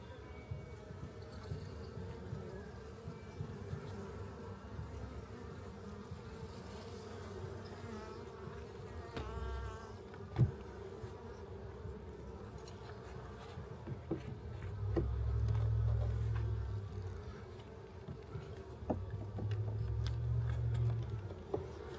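Honeybees buzz close around a hive frame being filled with nectar, a steady droning hum with a few louder swells and a brief knock partway through.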